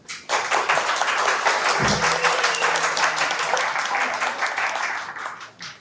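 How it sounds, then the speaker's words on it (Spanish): An audience claps for a speaker at a conference on digital security and the future of AI in Ecuador. The applause is brisk and continuous, with one low thump partway through. "Un aplauso, por favor."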